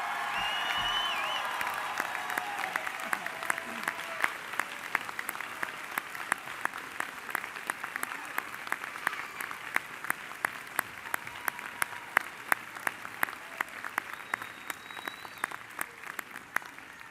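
Sustained audience applause fills a university winter commencement hall after new graduates move their tassels, dense clapping continuing steadily with some louder individual claps standing out toward the end.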